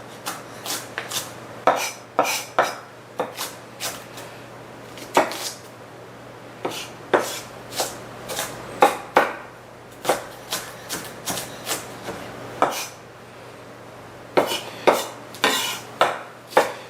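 An onion is chopped small on a cutting board for a creamy crab salad: crisp, close knife strikes land in quick, uneven bursts, with short pauses between runs of cuts.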